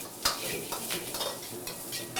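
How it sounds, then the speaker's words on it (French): Vegetables with ginger and garlic sauté in a pan, a soft continuous sizzle broken by scraping, stirring strokes of a utensil, close and fairly quiet. "On fait revenir nos petits légumes"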